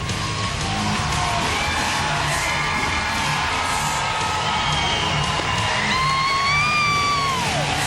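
Crowd in an arena at a women's professional sports game between the Nevada Hot Dice and Illinois Riot cheers, yells and whoops steadily as a player is introduced, with loud whistles rising near the end.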